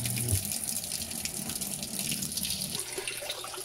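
Water gushes steadily into a washing machine drum as it fills, a close, even rushing splash with no talking, ahead of a blanket wash in an Electrolux 14 kg or Panasonic 16 kg machine.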